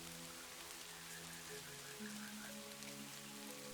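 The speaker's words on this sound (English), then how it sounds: "The rain did not slow." Steady rain falls through a high forest canopy onto broad leaves and surfaces, a continuous soft hiss with scattered drops, heard alone under faint, gentle sustained tones.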